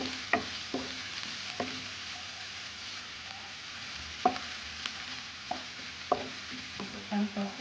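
Onion frying in a pan for fettuccine carbonara, a soft steady sizzle with repeated scraping and tapping as a utensil stirs, fairly quiet throughout.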